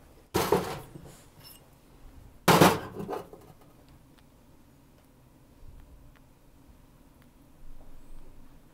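A rawhide mallet strikes a metal bezel ring being rounded in jewelry making, giving two sharp, loud knocks about two seconds apart, followed by faint handling noises.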